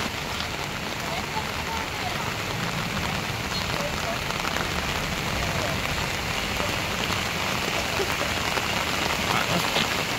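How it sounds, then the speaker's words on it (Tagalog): Heavy rain pours steadily and loudly, a dense continuous hiss of drops on surfaces lasting the whole stretch at an outdoor roadside cleanup, with no clear pauses or let-up. "Lakas ang ulan."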